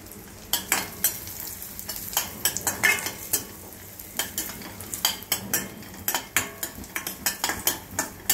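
Raisins and cashews fry in ghee in a pan as a ladle stirs them, with repeated sharp metal scrapes and clinks over a soft low sizzle, close by with no talking.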